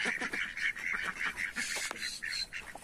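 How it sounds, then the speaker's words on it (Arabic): Ducks on a poultry and pet-animal farm quack repeatedly in short, overlapping bursts. The calls are nearby and moderately loud, and no one speaks over them. "ده باقي البط اهو"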